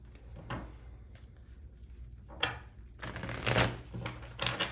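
Oracle cards being handled and shuffled for a tarot reading, soft papery riffles and flicks in several short bursts, the densest flurry near the end, close and quiet with no talking.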